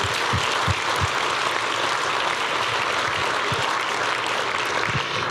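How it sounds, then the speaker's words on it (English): Steady applause from a conference audience at a closing awards ceremony for an ecosystem conference, a dense continuous clapping that fills the whole stretch without any talk. "Let's give them another round of applause."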